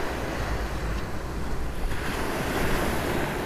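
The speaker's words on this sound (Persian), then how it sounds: "خیلی قشنگه این ساحل، عمیق به نظر میاد آب اینجا و خیلی هم مواجه" Sea waves wash steadily onto a deep-water beach by rocks on the Iranian coast, a continuous broad roar mixed with wind buffeting the microphone.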